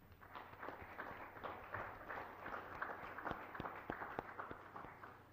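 An audience at a city council meeting applauds retiring police officers with steady, moderate clapping that is irregular and fairly faint throughout.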